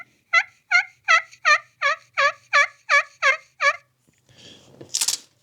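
Yelp played on a slate turkey call with a striker: a string of about ten evenly spaced, loud, clear yelping notes, then a brief scratchy rasp and a sharp hiss of the striker.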